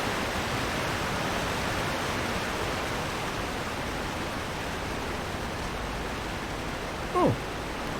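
Flowing water in Skyrim makes a steady broadband rush, like a stream or small waterfall, running continuously at moderate level with a brief faint chirp near the end.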